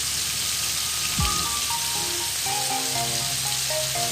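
Okra, called ladies fingers, fries in a hot pan with a steady, close sizzle and crackle that runs throughout, with brief clinks of a utensil partway through and no talking.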